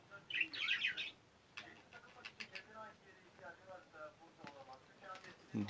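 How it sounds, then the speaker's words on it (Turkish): Pet birds in a home breeding room, with bright chirps and tweets near the start and fainter calls later under someone talking. "Şöyle göstereyim kuşlarımı"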